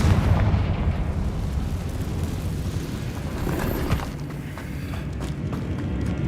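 Confringo fire spell exploding in Hogwarts Legacy, a dense rumbling blast with a low booming body that rolls on steadily, with a slight swell and crackle midway.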